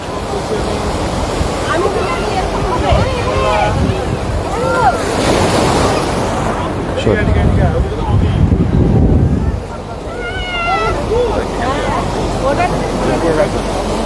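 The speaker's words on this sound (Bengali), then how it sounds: "এত জোরে এক একটা ঢেউ আসছে" Steady roar of Bay of Bengal surf at Digha Mohana, waves surging and breaking close by, mixed with wind buffeting and several voices talking over it throughout.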